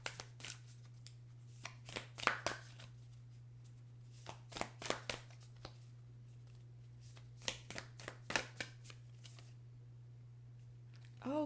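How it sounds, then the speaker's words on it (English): Cards from a Moonology oracle deck are handled and drawn, with soft scattered shuffling and slapping bursts against a steady low electrical hum. "I'm going to get you guys a Moonology card."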